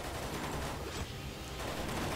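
Sustained machine gun fire in the shooter Necrovision rattles on as a dense, continuous stream of rapid shots, steady and fairly faint throughout.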